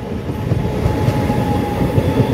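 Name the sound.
train passing by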